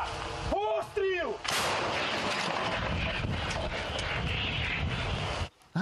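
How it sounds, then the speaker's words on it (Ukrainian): A heavy Ukrainian artillery gun fires on the front line, its loud blast followed by a long rumbling roar. Brief tonal whines sound just before the shot. "Гармаші стріляють короткими серіями"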